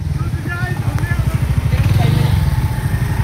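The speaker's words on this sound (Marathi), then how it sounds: "super bike" A superbike passes close by with a loud, throbbing low engine rumble that stays strong and swells slightly as it goes by.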